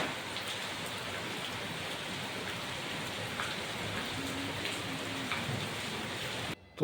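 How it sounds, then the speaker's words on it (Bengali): Torrential downpour roars steadily, a thick continuous hiss of rain striking surfaces, with a faint low rumble that may be distant thunder; no one speaks, and it cuts off abruptly at the very end. "মুষলধারে নেমেছে, মুষলধারে।"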